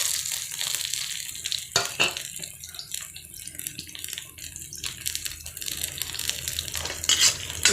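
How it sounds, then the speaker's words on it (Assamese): Onions fry in a pan with a bright continuous sizzle, broken by scraping stirs and a few sharp clatters of a spoon against the metal. "প্ৰথমতে অলপ পিঁয়াজ ভাজি লৈছোঁ।"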